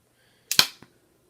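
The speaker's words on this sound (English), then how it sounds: "on either side of the cannons you have two flip-fire missiles that work just like this" A LEGO Resistance Y-wing's spring-loaded flip-fire missiles launch with two sharp plastic snaps in quick succession, followed by a fainter click as a part lands, in an otherwise quiet room.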